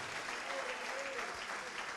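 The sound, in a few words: congregation applauding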